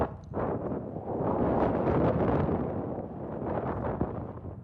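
Strong storm wind gusts roar across a microphone with a steady rain wash beneath, swelling loud in the middle and easing slightly toward the end, with no talk heard.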